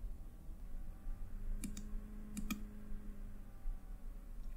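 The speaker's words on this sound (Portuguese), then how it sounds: "só dá dois cliques." A computer mouse double-clicks twice in close succession to open the Python installer, sharp near clicks over a quiet background hum.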